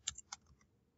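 A few crisp computer keyboard keystrokes while typing into a browser address bar, two sharp clicks close together and then fainter taps trailing off, close and quiet with no talking.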